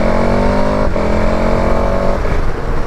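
A 2021 KTM 1290 Super Adventure S motorcycle engine droning loud and close with steady tonal whine, dipping briefly at a gear change before pulling on, then easing off near the end.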